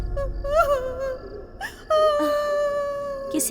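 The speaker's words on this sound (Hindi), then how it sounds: "किसी के रोने की आवाज आ रही है लगता है।" Someone crying in a house at night: drawn-out, wavering sobs and wails, fairly close and clear, with a sharp catch of breath partway through and no talk over them.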